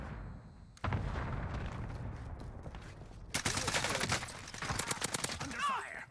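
Gunfire in the video game Warzone: sustained automatic bursts and rapid shots, loud and close, with brief gaps between volleys and game sound effects layered in.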